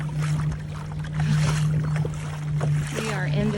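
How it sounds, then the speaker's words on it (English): A kayak paddles across open water between islands, with soft paddle splashes and water movement under a steady hum and wind, while a person talks over it. "so we're paddling to go get to him"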